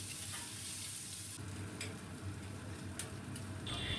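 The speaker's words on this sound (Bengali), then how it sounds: "একটু লাল লাল করে পেঁয়াজগুলো ভেজে" Chopped onions and black cumin seeds frying over high flame in mustard oil, a steady close hiss of sizzling with a few scraping stirs partway through, no voices.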